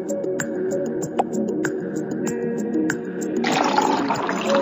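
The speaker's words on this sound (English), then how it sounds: "Fill it with clear water." Clear water pours into a transparent tub, a steady close rushing trickle with occasional drips that swells into a louder gush toward the end.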